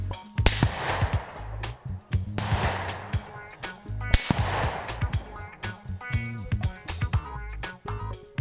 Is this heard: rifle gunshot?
yes